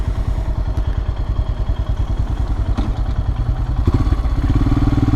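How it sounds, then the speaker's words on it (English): A 2022 Royal Enfield Himalayan fitted with a Hitchcocks carburetor conversion idles steadily at a traffic light, its single-cylinder thump even and close, with a slightly heavier burst of engine rumble near the end. "My little Himalayan sitting here idling along."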